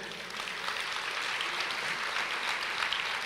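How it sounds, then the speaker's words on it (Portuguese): A church congregation applauds, a dense, steady wash of many hands clapping that holds at even strength for a few seconds with no talk over it. "Você pode aplaudir o Senhor?"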